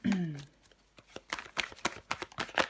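Tarot cards handled and shuffled during a reading, giving a burst of soft papery riffling and slapping at the start, then scattered light card taps and flicks under someone speaking French nearby.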